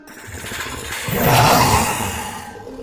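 In Roblox Creatures of Sonaria, the camel-like Gloracus creature lets out a broadcast call, a rough, swelling roar that builds to a peak mid-way and then fades, heard alone.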